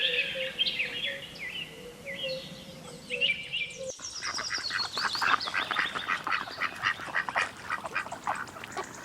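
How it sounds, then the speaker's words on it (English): A duck quacking in repeated nasal calls, first spaced out, then joined by a busier burst of overlapping squawks and chatter from several birds, fairly close and with no speech. "Duck."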